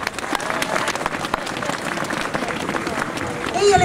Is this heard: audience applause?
yes